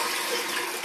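Water runs steadily from a tap on a farm, a continuous broadband rush with no pauses, close and fairly loud, heard alone while a crop sprayer is being readied for treating wheat.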